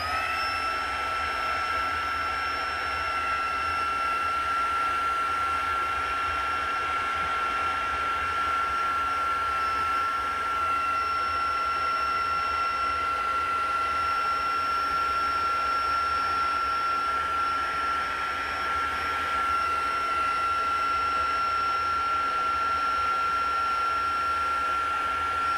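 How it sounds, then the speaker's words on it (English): A heat embossing tool blows hot air in one long, unbroken roar with a steady whine on top. It stays close and loud throughout, with no one speaking. "And get that heat tool."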